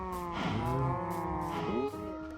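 Cattle in a video game farm pen give two long, overlapping moos, close and loud, with a steady background hum and no voices.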